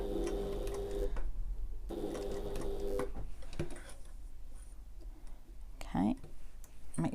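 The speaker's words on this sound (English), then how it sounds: "I'm going to back stitch either side of the turning gap" Domestic sewing machine back stitching on either side of a turning gap while sewing a sling bag, a steady mechanical whirr in bursts that stop and restart, with quiet talk in between.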